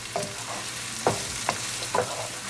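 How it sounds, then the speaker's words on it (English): Onion is stirred while frying in a pan with ginger and garlic, with a steady sizzle underneath and four distinct scraping strokes of the spoon spread unevenly across the clip. "Keep stirring. We're going to cook our onion"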